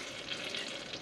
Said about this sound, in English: I'm just melting down the butter to start with